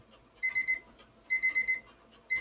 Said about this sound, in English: I got random alarms popping off